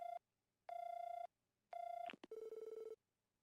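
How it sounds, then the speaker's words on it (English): A telephone rings in the Trails from Zero video game, three evenly spaced electronic rings, then a short click and a faster warbling tone. "Lloyd called the phone number he received."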